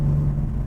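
A restored 1966 Chevrolet Chevelle with a 4-speed idles close by, a loud, steady low rumble with a deep engine hum across a brief moment.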